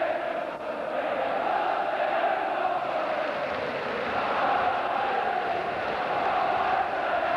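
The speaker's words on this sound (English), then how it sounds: "Chant the crowd." A large football crowd at a Sunderland versus Millwall match in 1995 produces a dense, continuous roar of chanting. It sounds distant and steady throughout, with no clear individual voices.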